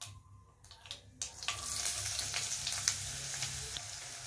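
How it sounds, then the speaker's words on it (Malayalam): Half a teaspoon of mustard seeds drops into hot oil in a pan: after a quiet moment a loud, close, crackling sizzle starts and holds steady with faint popping. "എണ്ണ ചൂടായി കഴിയുമ്പോൾ ഇടത്തോട്ട് 1/2 ടീസ്പൂൺ കടുക് ഇട്ട് കൊടുക്കുക."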